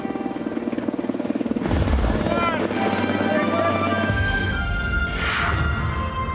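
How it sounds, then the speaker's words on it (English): A rescue helicopter arrives in snowy mountain terrain, its rotor chop thudding loud and close with a rising turbine whine, while people shout and talk over it. "it was a great feeling to see that helicopter come in"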